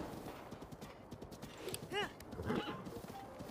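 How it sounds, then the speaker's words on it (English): Horse hooves clip-clop at a steady trot in the video game Zelda: Breath of the Wild, the rhythmic beats broken by a loud, rising whinny near the middle and a second neigh shortly after. "horses in this game can actually follow the road automatically"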